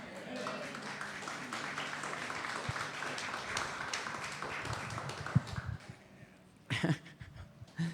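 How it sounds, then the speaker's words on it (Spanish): Hesitant, scattered applause from a church congregation during a morning service, steady and moderate, with a louder burst of claps near the end. "Esos aplausos son como con miedo"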